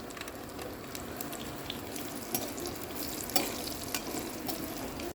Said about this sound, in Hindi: अंजीर को भी अच्छे से फ्राई कर लूँगी।